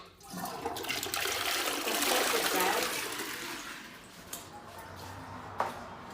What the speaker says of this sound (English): There's a flush.